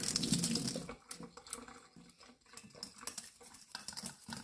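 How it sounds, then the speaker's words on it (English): Water runs from a kitchen tap as hands are washed, a close steady splashing with faint clinks of dishes in a home kitchen. "And I'm going to wash my hands."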